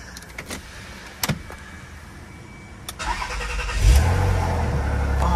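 A few sharp clicks and interior switch sounds come first, then a car engine cranks and fires up near the end into a loud, close, rumbling idle, with no talking.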